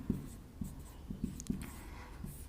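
Chalk or marker taps and strokes on a board as a teacher writes a step of a maths problem, several short, distinct marks in an uneven rhythm, fairly quiet in a room.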